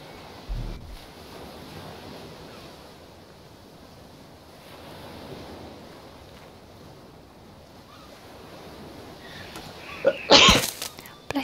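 A single sharp sneeze bursts out near the end of an otherwise quiet stretch, loud and close over a soft, steady background hiss, during a session of the game Ark: Survival Evolved.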